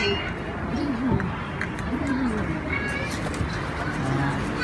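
Pigeons coo in a few soft, rolling calls close by, rising and falling over a busy background of shuffling and low voices.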